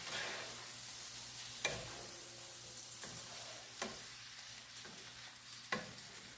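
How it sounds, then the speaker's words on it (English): Ackee and salt mackerel stirred in a pan over a soft sizzle, a quiet frying hiss punctuated by four sharp spoon knocks against the pan at irregular intervals. "And now you're just going to mix everything"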